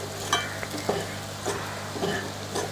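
Rice tossed with cumin, coriander and pepper powder is stirred in a pan, giving soft scraping strokes at an uneven pace, close by, over a faint background hum.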